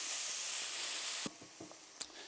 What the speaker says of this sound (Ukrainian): Морковка повинна притушитись до м'якості.